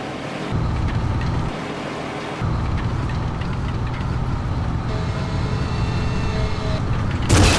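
A tank engine in the Medal of Honor Rising Sun war game rumbles steadily with low grinding noise, shifting in level in blocks, with a brief louder burst at the very end.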